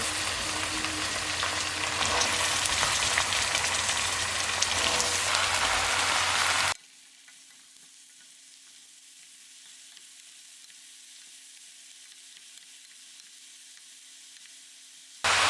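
Loud, dense sizzling of broad beans hitting a hot pot for several seconds, then it cuts to a much quieter, steady low hiss.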